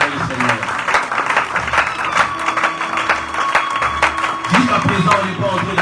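A church congregation applauds and cheers the Lord, dense rhythmic clapping with shouts and whoops from a full room, sustained throughout with voices mixed into the din.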